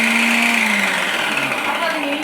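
A kitchen mixer grinder whirs as it slices vegetables such as beetroot, a loud motor whine that sags and shifts in pitch, with someone talking over it.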